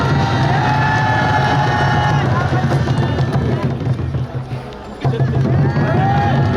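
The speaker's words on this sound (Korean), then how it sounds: "여러분 큰 함성 주십시오." Crowd at a Taegukgi rally in Uijeongbu, South Korea, cheers and shouts loudly to welcome city councillors, a sustained roar of many voices that dips briefly near the end before surging again.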